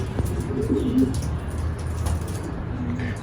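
Racing pigeons cooing on a rooftop loft, soft low repeated coos close by over a steady background hum, with a faint chirp here and there and no voices.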